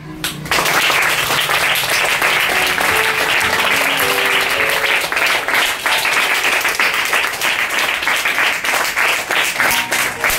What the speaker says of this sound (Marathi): सगळ्यांनी छान टाळ्या वाजवायच्या.